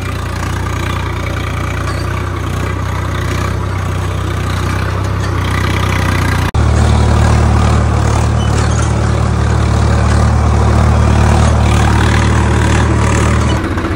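A tractor engine runs steadily while pulling a nine-tine cultivator during wheat sowing in a field. It sounds loud and close, a continuous low drone that grows a little heavier partway through.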